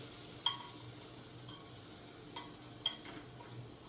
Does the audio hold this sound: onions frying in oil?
yes